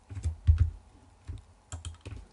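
Computer keyboard keys tapped while working in Excel 2021 with the Ctrl key held, giving a few soft, close clicks in two small bursts separated by a short pause.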